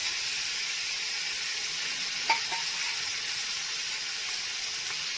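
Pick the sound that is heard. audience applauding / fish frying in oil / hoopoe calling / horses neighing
fish frying in oil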